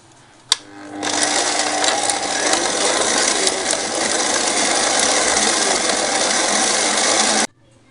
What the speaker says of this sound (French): j'ai mis mon beurre dans le robot, donc on va le battre.